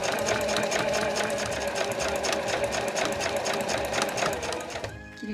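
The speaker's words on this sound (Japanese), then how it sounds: "こんな感じでこのエッジの部分を端に合わせて縫うと綺麗に際" A sewing machine with an edge-stitching presser foot runs along a fabric edge while a granny bag is sewn, a loud, steady, fast mechanical whir of stitching that carries on unbroken and stops just before the end.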